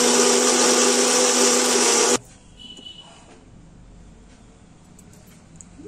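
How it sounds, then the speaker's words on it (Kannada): A mixer grinder loudly whirs as it grinds brinjal dosa batter with water, a dense steady roar that cuts off abruptly after about two seconds, leaving quiet room noise. "ಇದನ್ನ ನುಣ್ಣಗೆ ಗ್ರೈಂಡ್ ಮಾಡ್ಕೊಳ್ಳೋಣ ಸ್ವಲ್ಪ ನೀರು ಹಾಕ್ತಾ ಇದೀನಿ"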